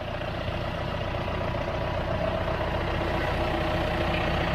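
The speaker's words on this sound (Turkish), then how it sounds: "Şimdi tekrar gitti geliyor traktörümüz." John Deere tractor engine running steadily in a field while fitted with a Trimble satellite auto-steering system, a continuous low diesel drone at even volume, fairly close and with no voices.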